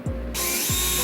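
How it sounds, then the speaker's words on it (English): A brief burst of a power drill whirring at high speed through a plastic container, loud and close, with a ratcheting mechanical edge. "we're going to drill 2 holes on each side of the container"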